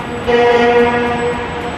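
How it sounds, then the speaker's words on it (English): A train horn sounds in one sustained, loud, harmonic blast lasting over a second, close by and with no voices. "Was that honking necessary?"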